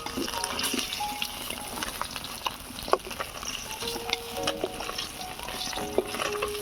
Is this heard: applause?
no